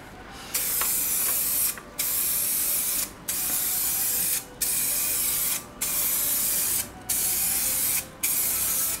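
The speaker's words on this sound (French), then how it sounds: "On commence le jet toujours en dehors de la zone et on reste à 10-15 cm de la surface." Aerosol spray can applying primer to a car headlight, heard as seven steady hissing bursts of roughly a second each, separated by short gaps, close and fairly loud with no talking.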